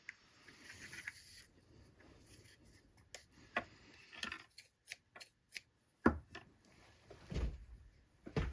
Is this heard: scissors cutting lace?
yes